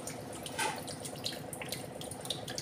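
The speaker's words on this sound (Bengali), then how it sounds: "এদিকে জল পড়ছে" Water runs steadily from a newly installed Aquaguard water purifier, a continuous soft splashing trickle heard fairly faintly, with no talking.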